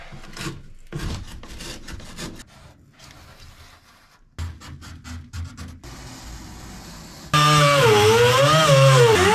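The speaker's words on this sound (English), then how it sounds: "So my piece of metal's all cut out now" Sheet metal being cut out during a GMC Sonoma rebuild, a notch trimmed at the bottom: rasping, sawing strokes in short bursts with gaps, ending in a loud continuous high-pitched whining cut that fills the last couple of seconds.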